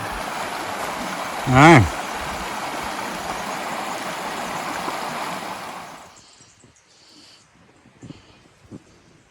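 A steady rush of flowing creek water at Horseyard Flat in the Victorian High Country fills the first six seconds, briefly interrupted by a short vocal sound, then fades to near quiet with faint rustles.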